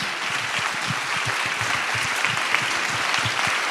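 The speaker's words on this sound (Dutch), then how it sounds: "Geef hem een flink applaus." Steady, vigorous applause from a large church congregation, many hands clapping together in a dense, continuous wash that holds at the same level throughout.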